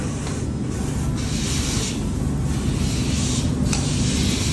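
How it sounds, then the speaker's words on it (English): Steady hiss of a spray gun masking and painting diecast model car bumpers black, running continuously, broad and fairly close, with a few brief dips and surges as the spraying shifts. "each piece is visually checked as they are being spray masked at this point."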